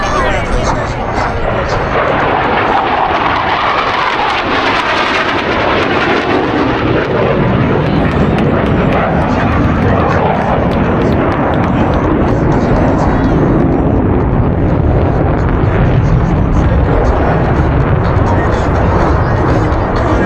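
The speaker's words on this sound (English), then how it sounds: "Approaching inverted from the left and right, they will roll their aircraft 360 degrees, crossing over center point." Blue Angels F/A-18 Hornet jets perform an opposing inverted-to-inverted roll at the MCAS Cherry Point 2024 air show, a loud continuous jet roar swelling and sustained throughout, with a crowd and announcer audible beneath the engine noise.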